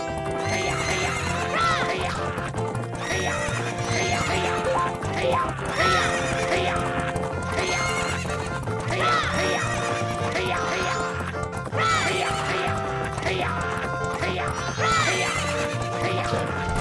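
Horse neighing and whinnying repeatedly over galloping clip-clop hooves in the video game The Legend of Zelda: Majora's Mask, a busy, continuous mix with game music underneath and no talking.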